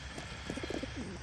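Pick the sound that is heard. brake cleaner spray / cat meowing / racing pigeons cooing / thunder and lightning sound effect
racing pigeons cooing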